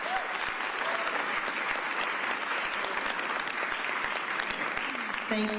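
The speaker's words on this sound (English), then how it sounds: "give them a round of applause, please." Sustained applause from an audience at a press conference about a new 76ers arena in South Philadelphia, a dense, even wash of clapping heard close.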